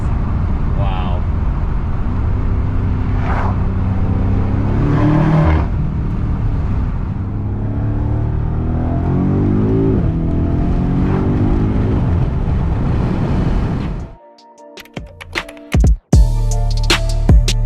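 A 2023 BMW M5 Competition revs hard, its engine loud and close, rising and falling in several surges with a passing roar, then cutting out into near silence broken by a few clicks and knocks.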